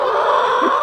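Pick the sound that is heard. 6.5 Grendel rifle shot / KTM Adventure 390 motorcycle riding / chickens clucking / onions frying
chickens clucking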